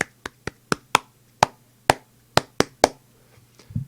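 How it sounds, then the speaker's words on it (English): Ten crisp hand claps in an uneven rhythm, close and loud against near silence, ending with a soft murmur. "if I was like to clap a rhythm"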